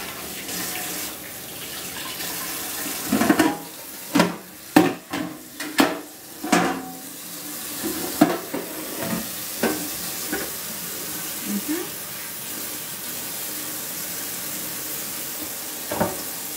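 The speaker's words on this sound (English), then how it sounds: "All right, we're gonna do some dishes." Dishes are washed at a kitchen sink under running water: a steady stream of tap water with a cluster of clinks, clatters and splashes in the middle, fading back to plain flowing water, with no talking.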